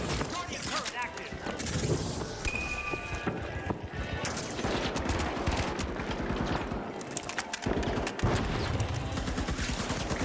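A guardian turret firing in a video game, rapid continuous bursts of gunfire layered with other game effects, loud and dense throughout while voices talk over it.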